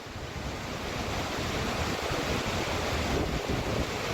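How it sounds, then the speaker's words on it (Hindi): Fast-flowing floodwater pours down from the hills after heavy rain, a constant loud rushing roar of water with wind-like noise and no talking. "देखिए पानी का बहाव कितना तेज है।"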